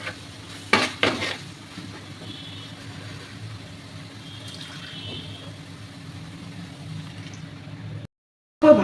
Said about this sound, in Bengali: আগে তেলটা কিন্তু ছেড়ে দিয়েছে তাও আরেকটুখানি ভাজি